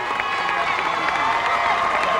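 An audience at an all-star game event gives a band member a big round of applause, a continuous wash of clapping and crowd cheering with some voices mixed in.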